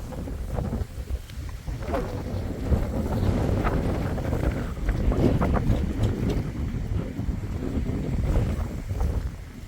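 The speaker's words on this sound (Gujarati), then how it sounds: "પવન થોડો વધારે છે." Strong wind buffets the microphone in low rumbling gusts on a farm field during sowing with a GPS tractor, rising and falling throughout with a faint hint of distant activity underneath.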